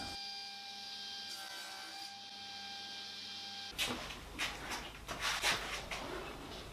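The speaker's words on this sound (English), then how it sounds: "just putting the splines in there, just cutting them on my spline jig." A saw cuts pine splines on a spline jig riding over a table saw fence for a jewelry box build, a steady whine giving way to rough, uneven cutting noise.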